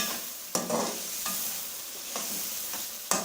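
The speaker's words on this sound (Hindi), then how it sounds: "अच्छे तरीके से गोश्त को फ्राई करना है।" Guar beans and mutton fry and are stirred in a pan, giving a steady close sizzle broken by a few sharp scraping strokes of the spoon, with no talking.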